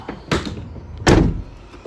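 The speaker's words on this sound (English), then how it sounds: "Shut that door." The door of a 2019 Ford Transit Custom 2.0 TDCI EcoBlue van is handled twice: a lighter clunk followed by a heavy, solid shut, close and loud with no talk.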